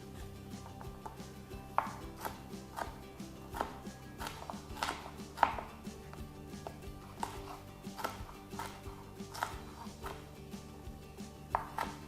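A knife rough-chops vegetables on a board for stuffed pepper filling, making close, steady, slightly uneven chops throughout with no talking.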